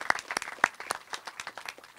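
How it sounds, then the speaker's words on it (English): Brief applause from a small event audience honoring a board member, with scattered individual claps standing out, fairly thin and close, fading after about two seconds. "Let's give Alan a big round of applause"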